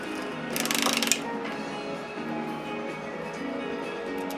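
A sewing machine puts down three quick needle stitches in a short rapid mechanical burst, followed by a quieter steady motor whir.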